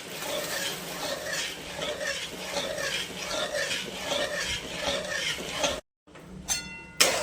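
Suralichi vadi batter being stirred steadily in a pan over a low flame, a continuous soft scraping swirl that repeats evenly, close by, then briefly drops out near the end before a few faint clinks.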